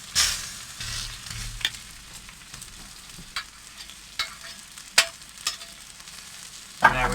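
Bacon sizzles steadily on an Aldi kamado grill, a soft continuous fry broken by a few sharp pops and spatters, with no voices.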